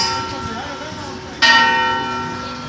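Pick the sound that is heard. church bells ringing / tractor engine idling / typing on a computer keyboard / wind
church bells ringing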